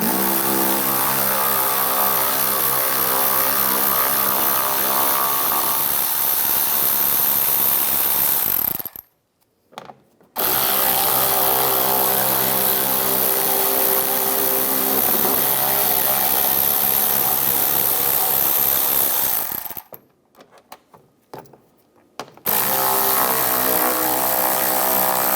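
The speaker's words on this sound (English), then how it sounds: "We're going to take these 3 screws out underneath, use the 8mm socket." A power tool with an 8mm socket whirs loudly and steadily, removing the underside bumper bolts on a 2011-2019 Ford Explorer, running in two long close-up bursts separated by short silent pauses.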